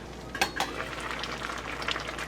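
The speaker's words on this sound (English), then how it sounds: "just let all of that simmer for a little while." Tomato soup cooking down in a pot for home canning, with soft bubbling and a faint sizzle, a couple of sharp clinks of a lid or utensil near the start, and no voices.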